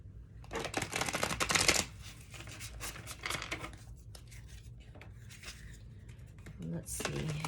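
Tarot cards are shuffled in bursts of close, crisp riffling and flicking, with quieter gaps between and a voice speaking softly at times.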